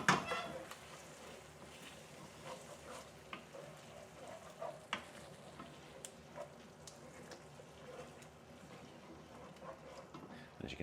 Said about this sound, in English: now we're just going to mix that through the chickpeas, making a lovely creamy finish